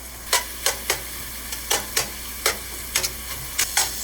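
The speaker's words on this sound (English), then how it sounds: "So we cook the turkey with the onions and the herbs." Turkey cooking with onions and herbs in a pan over medium heat, a low sizzle broken by a string of sharp, evenly spaced scraping and tapping strokes from a utensil stirring.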